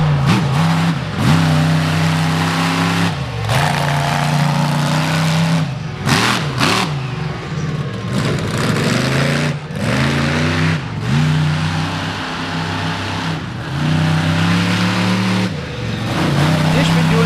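A monster truck engine roars and revs hard through a slap wheelie at a Jeep and truck show in Sturgis, a sustained loud growl that surges and dips repeatedly, with an announcer talking over it.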